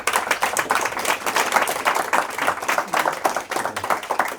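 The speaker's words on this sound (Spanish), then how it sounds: "Pues vamos a darle un aplauso por participar aquí." Audience at an engineering talk on steel structures clapping for participants, a moderate round of dense, fairly close handclaps with a loose rhythm.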